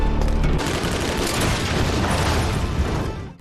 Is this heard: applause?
no